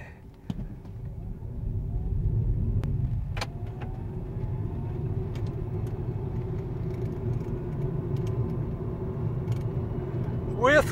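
An electric crew cab truck pulls a hay trailer loaded with 28 bales uphill at about 40 mph, heard from inside as a steady low road rumble and hum with a few faint clicks.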